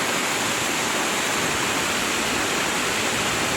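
A waterfall along a mountain trail roars in a constant dense hiss of falling water, loud and near, unbroken for the whole stretch with no voices.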